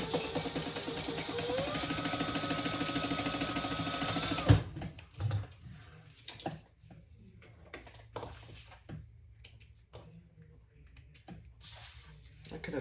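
A sewing machine runs steadily for about four and a half seconds, stitching the top of a crossbody bag closed about 1/8 inch from the edge, then stops, leaving quiet handling clicks and faint rustling.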